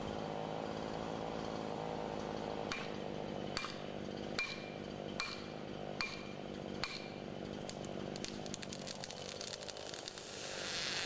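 A Jonsered chainsaw runs steadily through a felling cut in a standing tree, its engine droning loud and close with sharp clicks and cracks of wood breaking through, no talking.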